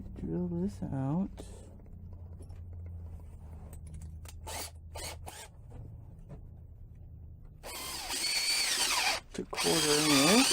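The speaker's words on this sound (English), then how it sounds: "we drill this out." A power drill bores a 1/4 inch hole in a wooden whirligig part, revving close and loud in two bursts, with someone talking in the quiet gap between them.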